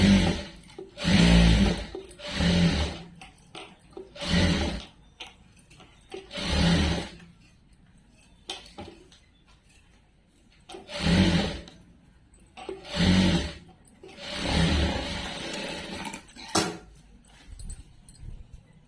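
Electric sewing machine stitching a dress, running in repeated short bursts of a few seconds each with quiet pauses between, close and fairly loud with a steady mechanical whirr.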